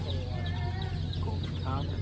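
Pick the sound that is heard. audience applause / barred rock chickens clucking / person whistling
barred rock chickens clucking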